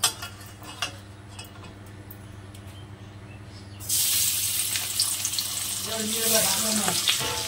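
Prawns for a chingri malaikari dropping into hot oil in a heated kadai: a quiet stretch with faint clinks, then an abrupt loud close sizzle that keeps hissing and crackling to the end.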